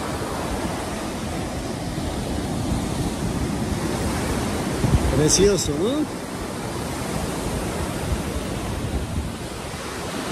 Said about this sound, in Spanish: Miren qué bonito está el mar,